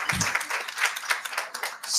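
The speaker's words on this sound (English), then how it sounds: "A round of applause, please." A seminar audience gives a round of applause, a continuous patter of many hands clapping, fairly close and moderately loud, with no talk over it.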